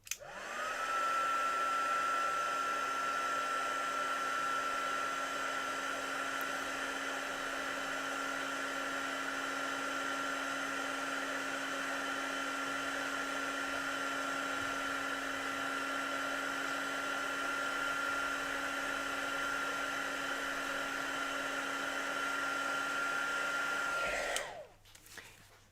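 A heat tool blows hot air onto ink on a stamped card, a steady, close whirring hum with a high whine that runs unbroken for about twenty-four seconds before cutting off.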